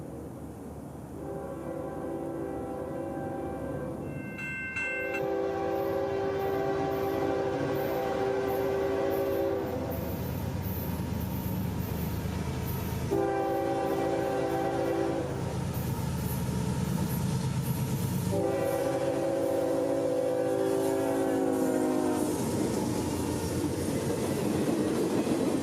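CSX M453, a long daily manifest freight from Waycross to Miami, rolls past on the old Seaboard S-Line, horn sounding in several long blasts over a steady rumble and clatter of cars, loud and close throughout.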